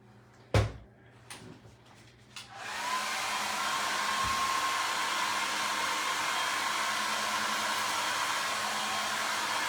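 A hair dryer switches on after a few clunks and knocks, then runs with a steady, loud whoosh while drying a craft cloche covered in glue.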